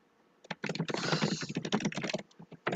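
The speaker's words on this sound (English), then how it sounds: "So sorry if you hear me typing." Rapid clattering keystrokes on a computer keyboard, close and steady for a couple of seconds with brief pauses, and no talking.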